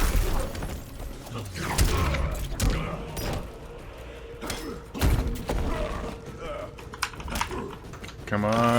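Computer keyboard keys clatter busily in irregular bursts and thumps while someone plays Mortal Kombat, mixed with game sounds and a voice talking over the top.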